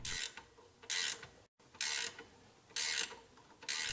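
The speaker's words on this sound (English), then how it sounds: "Use your tools to draw the bushing into the axle housing." Ratchet wrench turning a nut on a bolt to draw a bushing into a Ford Mustang rear axle housing with an MMT-1 upper control arm bushing tool, in four bursts of rapid clicking separated by brief pauses, close and clear with no talk.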